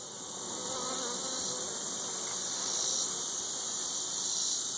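Honey bees buzz around an open hive frame during a small split, a steady, dense, close hum that holds without a break and carries no talk.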